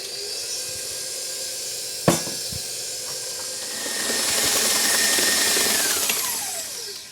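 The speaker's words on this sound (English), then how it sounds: "I'm going to start on low, and then I'm going to mix it up and beat it really well" Stand mixer with a paddle beating gluten-free wedding cake batter containing vinegar: a steady whirring motor that ramps up in speed and grows louder partway through, with a sharp knock early on.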